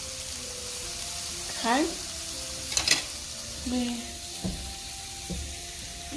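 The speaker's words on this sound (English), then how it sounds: "I'm just going to get these sauteed up." Shrimp sautéing in a pan, a steady close sizzle running throughout with a few clinks and scrapes of utensils, while a voice briefly speaks over it.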